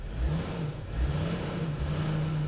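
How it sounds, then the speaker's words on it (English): Mercedes/Dodge Sprinter van engine running with its check engine light on, a low, steady idle hum with a faint whir on top, fairly quiet and close, with no one speaking over it. "So as you can hear, the engine is running."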